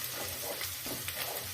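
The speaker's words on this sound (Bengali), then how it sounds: "আদা থেতোটা দেব, দিয়ে ভালো করে মিশিয়ে নেব আর নাড়াচাড়া করে নেব।" Crushed garlic and ginger fried and stirred in a pan, a continuous close hiss of hot oil with faint scraping from the stirring and no voices.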